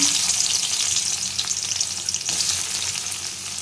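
Chopped large onion frying in hot oil with spices, a loud, dense, continuous hiss and crackle that stays even throughout, with no talking.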